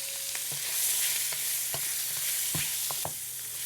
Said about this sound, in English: hit the wok with a little bit of oil, and in go the shrimp